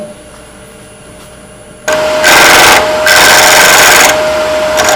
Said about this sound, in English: I just generally use a bowl gouge to do the quick roughing on this, just to get it around.